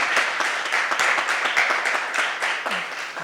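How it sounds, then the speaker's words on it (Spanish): A lecture audience gives a round of applause for a science history speaker, close, crisp individual claps in a lively uneven patter that stays fairly loud throughout. "Pues agradecemos con un aplauso nuevamente a Rafael."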